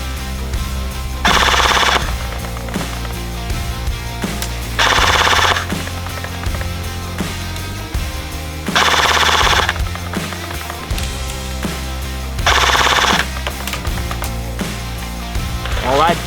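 Novritsch SSR249 airsoft light machine gun firing four sustained bursts of roughly a second each, rapid mechanical chatter on an outdoor range at 80 meters, with steady background noise between bursts.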